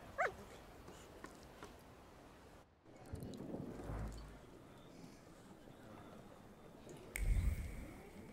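Dog in the video game The Thaumaturge, brief whimpers and yips with a few short barks, scattered over the stretch while someone talks.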